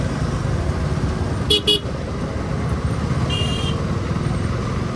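Busy road traffic held up near a burnt-out tempo, with a continuous close engine rumble and a couple of short car horn toots cutting through.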